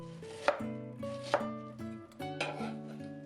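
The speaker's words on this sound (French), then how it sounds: "Couper en julienne le chou blanc." A kitchen knife slices white cabbage into julienne strips on a cutting board, giving a few crisp, separate chops spaced about a second apart over soft background music.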